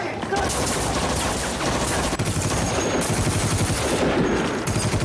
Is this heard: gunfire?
yes